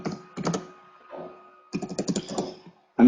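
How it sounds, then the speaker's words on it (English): Someone types slowly on an unfamiliar computer keyboard indoors, the keys tapping in two uneven bursts separated by a short pause, close and fairly loud, with no talking. "so I'm a bit slow typing today"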